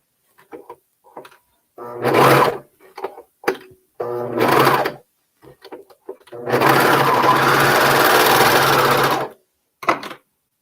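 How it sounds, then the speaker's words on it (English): A sewing machine stitches garment shoulders together in loud close bursts, two short runs and then one long steady whir of about three seconds, with brief handling clicks between them. "The top of the shoulders are being sewn together now."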